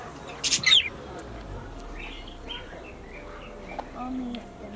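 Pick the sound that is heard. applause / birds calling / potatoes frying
birds calling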